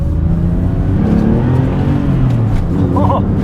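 Close, loud Porsche 996 engine revving climbs in pitch to about 6,500 rpm, a high-strung roar swelling and easing over a few seconds.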